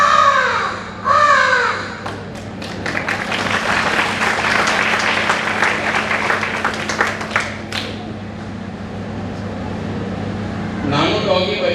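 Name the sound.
man imitating a female crow's call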